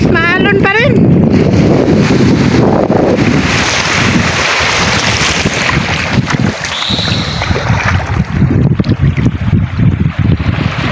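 Strong wind roaring across a microphone on a fishing boat at sea, with a heavy, constant buffeting rumble and the splash of water beneath it, while people talk faintly under the noise.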